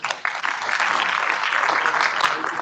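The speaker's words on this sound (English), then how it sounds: "Honorable Professor Dr. Mohammad Rehan Sir, with a huge round of applause." Sustained applause from a conference audience welcoming the chief guest, a steady dense wash of clapping close by that continues without pause.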